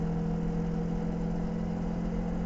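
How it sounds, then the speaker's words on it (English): A Kawasaki Versys X 300 motorcycle engine held at constant throttle, a steady unbroken drone heard up close with no talking. "But now, on this bike, I'm keeping a constant throttle."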